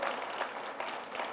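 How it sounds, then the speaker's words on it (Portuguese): Brief, moderately quiet clapping from a church congregation, a short burst of hands without speech. "Você pode aplaudir Jesus por isso, meu irmão"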